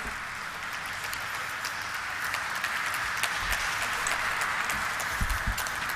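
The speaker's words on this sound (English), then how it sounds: "Can we have a huge round of applause," A crowd at a hotel company's stock listing ceremony applauds in a steady, dense patter of clapping that continues without a break, with no voices over it.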